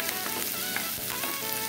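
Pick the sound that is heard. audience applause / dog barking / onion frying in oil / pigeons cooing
onion frying in oil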